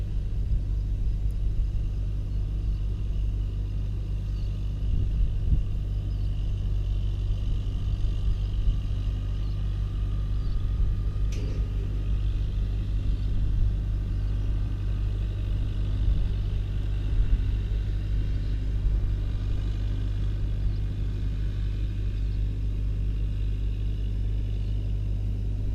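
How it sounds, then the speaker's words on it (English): An old Ford tractor pulling a nearly new hay rake rumbles steadily at a low, even drone throughout, its engine holding a constant pace with no talk. "I thought this would be a little bit of cool footage here of the old Ford raking it up"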